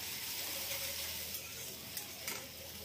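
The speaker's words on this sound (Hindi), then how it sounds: "ये कम से कम दो बड़ी बारीक कटी हुई प्याज है इसे तेल में अच्छे से भून लेते हैं" Two large, finely chopped onions fry in hot oil over high heat, giving a steady, soft sizzle with faint crackles and a few light stirring scrapes.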